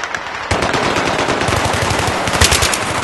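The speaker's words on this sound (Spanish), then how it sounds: "ametralladora enemiga al otro lado." Enemy machine gun in the video game Battlefield 3 fires a sustained, loud burst of rapid shots that begins about half a second in and keeps going to the end, with dense overlapping gunfire.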